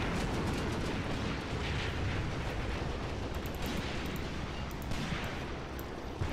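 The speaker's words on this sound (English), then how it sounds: "Artillery. Bring it in, boys." Continuous artillery barrage in the WWII game Cross of Iron, Mius Front German defense: dense, rumbling booms and crackling blasts roll on without pause, loud and unbroken throughout.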